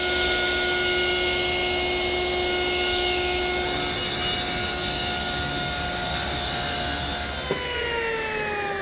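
A table saw tapers a leg for a Mission-style desk: a steady motor whine with rougher cutting noise through the middle, then the blade pitch drops as it winds down near the end. No voices.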